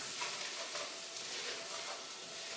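A pot of creamy corn chowder, just loaded with corn, is stirred as it simmers, giving a soft, steady sizzling hiss with faint scraping, quiet and continuous.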